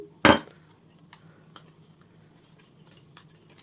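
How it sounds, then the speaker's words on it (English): A clay orchid pot is broken apart, giving one sharp, loud crack of ceramic followed by a few faint clinks and small taps of fragments against a quiet background. "tear this whole clay pot apart"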